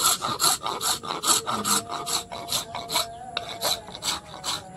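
Rhythmic rasping strokes from sanding paper fitted to an angle grinder being rubbed back and forth over a workpiece, steady repeated scrapes at close range with no voices.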